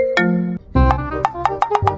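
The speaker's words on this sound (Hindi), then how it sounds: "फिर फोन आ गई।" A mobile phone ringtone plays in a barber shop, a bright electronic melody of repeated tonal notes with a rhythmic run of sharp pulses toward the end, loud and close with no talking over it.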